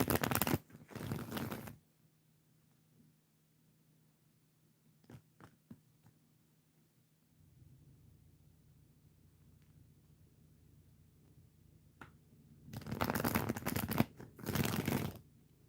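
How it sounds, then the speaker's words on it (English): Tarot cards being shuffled during a live reading: two loud bursts of riffling at the start and two more near the end, with quiet pauses and a low steady hum in between. "let me get a good shuffle here."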